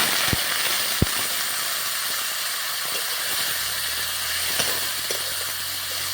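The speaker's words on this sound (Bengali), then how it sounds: "তেলের মধ্যে দিয়ে দিচ্ছি সেদ্ধ করা মটর আর মাংসগুলো।" Boiled peas and desi chicken meat hit hot oil in a pan and sizzle with a loud, steady hiss, with a few sharp pops and clinks up close.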